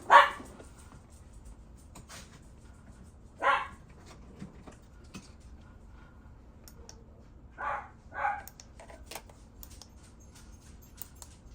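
Dogs bark outdoors in a few short, scattered bursts, some single and some doubled, heard at a distance and fairly faint against a quiet room.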